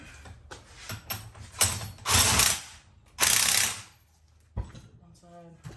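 A ratchet tightens spring compressors on an Audi A6 strut during a coilover install, with two sustained bursts of rapid clicking between short mechanical clunks and handling sounds, close and loud.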